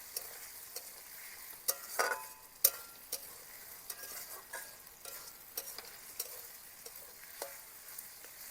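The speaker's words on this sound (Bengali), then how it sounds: "আদা রসুন পেঁয়াজ একসঙ্গে আবার কিছু সময় ভাজা ভাজা করে নেব" Onion and ginger-garlic paste fry in a pan for a cabbage dish, giving a soft steady sizzle broken by scattered clicks and scrapes of stirring, close and fairly quiet.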